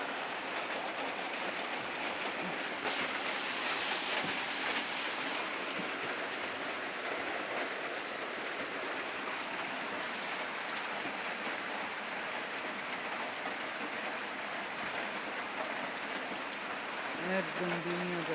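Rain falling as a steady, dense hiss of drops, moderately loud and unbroken across the whole stretch, with a faint low murmur near the end.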